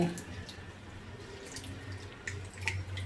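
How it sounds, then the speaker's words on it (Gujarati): Water sloshes and splashes quietly in a basin as Indian gooseberries (amla) are rinsed by hand, with occasional soft drips and handling noises. "સરસ બે પાણી ધોઈ લેશો"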